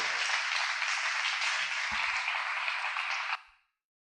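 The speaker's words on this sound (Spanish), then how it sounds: "Dele fuerte ese aplauso al Señor" A church congregation's applause at an anniversary service, a continuous loud wash of clapping close by that stops abruptly near the end, leaving silence.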